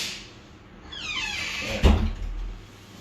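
A door creaks open with a gliding squeak and then lands with a dull thud as it is let swing wide for a knocking cat, heard close in a quiet room.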